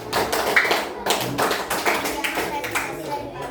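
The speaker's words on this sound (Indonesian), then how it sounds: "Tepuk tangan." An audience at a training session claps in uneven bursts, a few distinct hand claps and taps standing out over quieter background voices.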